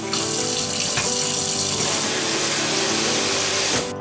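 A newly installed kitchen faucet runs at full pressure, a loud, steady rush of water into the sink that goes on unbroken and without talk, then cuts off at the very end.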